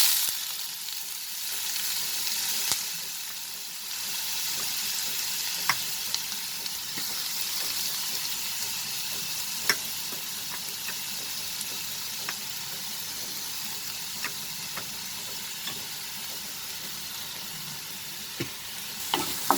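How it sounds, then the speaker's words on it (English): Dried red chilies and chopped tomatoes fry in hot oil, giving a steady, dense sizzle throughout, broken by faint spoon-stirring clicks and occasional pops, with no voices. "I am going to add the dried red chilies, and the chopped tomatoes"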